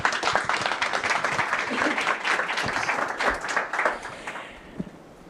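An audience at a startup accelerator demo day breaks into sustained, dense applause, many hands clapping together before it thins out toward the end.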